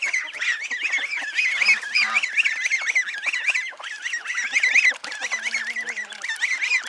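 Baby ducks peep in a dense, continuous high chorus while crowding around feed, loud and close, with no talking over them.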